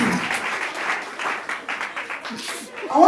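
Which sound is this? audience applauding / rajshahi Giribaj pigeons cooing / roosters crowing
audience applauding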